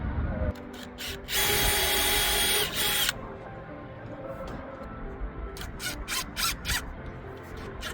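A power drill drives screws while someone installs a Furrion tankless hot water heater. One loud, steady whir lasts about two seconds, followed by several short, quieter bursts of the drill against a low room background.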